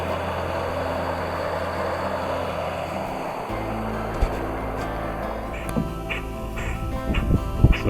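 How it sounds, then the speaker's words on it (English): A mother duck quacks in agitation near her ducklings on a Manitoba river during a canoe trip, with repeated calls in the final seconds over a low steady engine-like rumble. "this mother duck's going bananas and her little ducklings are in front of her"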